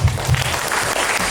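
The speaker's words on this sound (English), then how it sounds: "Round of applause" Applause from a crowd at a school celebration event, a dense wash of clapping filling the whole short moment at steady volume.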